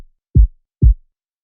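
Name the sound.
low punch kick sample with EQ cutting mids and treble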